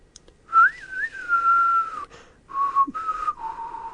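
A person whistles a short wavering tune, loud and close, in several phrases with brief pauses between them and no talking.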